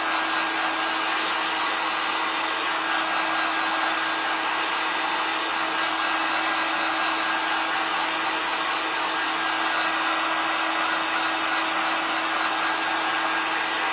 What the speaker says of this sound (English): I'm using my heavy duty dryer just so I can get things done quicker for you guys today.